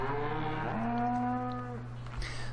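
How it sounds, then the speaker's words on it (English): Cattle at a fattening station on an Alps Austria map in Farming Simulator 2013 let out a long, clear moo that wavers and then fades, followed by a short rustle, close and alone. "Here's one of the fattening stations for cattle."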